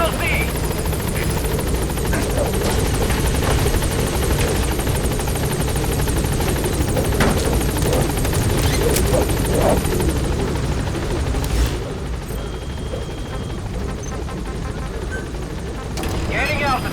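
The Pequod helicopter in Metal Gear Solid V arrives at a landing zone, its rotor thumping and engine whine continuous and close, easing slightly toward the end, with occasional radio voices over it.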